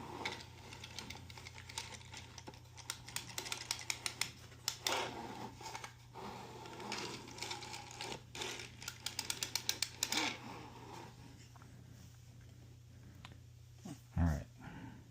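A 3D-printed flatbed knitting machine working courses of stitches, giving off quick clattering clicks and taps in uneven bursts over a steady low hum, fairly quiet and close.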